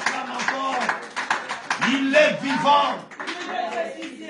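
A church congregation at a praise service claps and cheers in worship, raised voices and shouts layered over scattered clapping throughout.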